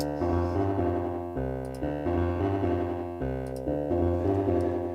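An overdriven synth in Ableton Live 10 holds a gritty, vowel-like tone that repeats a looping pattern, sustained and buzzy, with no voices.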